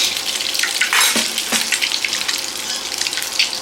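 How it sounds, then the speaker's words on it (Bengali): Potatoes frying in oil for a traditional Bengali egg curry, a steady close sizzle with occasional scraping stirs, no talking. "আলু ভাজা হবে, আলুটা ভালো করে ভাজবো"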